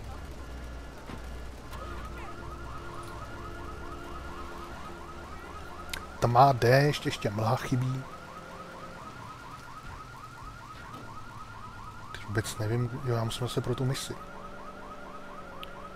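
Car alarm in the video game GTA III, a repeating electronic warbling tone looping steadily beneath someone talking casually, with louder game sounds briefly bursting in twice.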